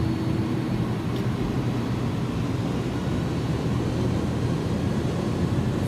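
Jet engines on an iniBuilds A300-600R roll for takeoff in X-Plane 12. A dense, loud, steady roar with a low hum runs unbroken and unchanging, with no talking.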